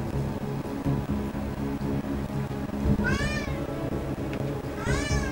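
Two rising meows from a cat in the video game Deus Ex: Mankind Divided, heard over a steady, busy background of in-game ambience and music, each call short and clear.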